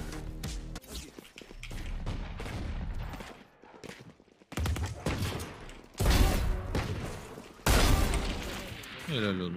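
Gunfire in the game Valorant: loud bursts of shots and impacts come in several intense clusters, mixed with game effects and a voice talking over them.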